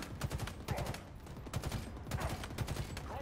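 Gunfire in Halo Infinite's campaign comes as rapid bursts of repeated shots, steady and fairly close, with game effects filling the background.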